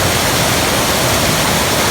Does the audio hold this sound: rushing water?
yes